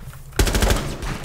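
Rapid automatic gunfire from a Rainbow Six Siege match, a burst of close, loud shots in quick succession that starts abruptly after a brief quiet moment and continues with a short pause.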